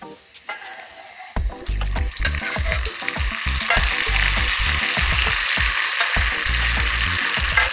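Peppers and tomatoes frying in a pan for menemen, a steady loud sizzle with repeated scraping stirs of a utensil against the pan, close and continuous with no talk.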